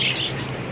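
Pet birds squawk close by in a brief, loud burst of raspy calls over a steady low background hum.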